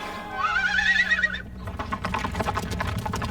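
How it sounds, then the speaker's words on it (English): In an animated Christmas Bible story, a horse lets out a loud, rising whinny, followed by a quick run of clip-clopping hooves. "He's just a dumb horse."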